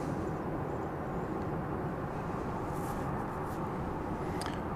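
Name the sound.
Embraer 145 jet landing at Dallas Love Field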